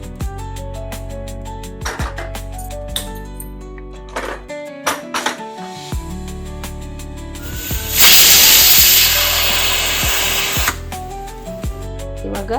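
A pressure cooker on the stove, cooking fenugreek leaf sambar, lets out a loud, rushing steam whistle that lasts about three seconds over steady background music.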